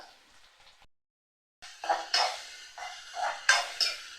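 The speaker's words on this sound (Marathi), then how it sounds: "कांदासुद्धा चांगला परतवून घ्यायचा" Onions and chillies sautéed in a pan, heard as a spatula stirring them in a series of scraping, clattering strokes, close and moderately loud, after a brief quiet gap.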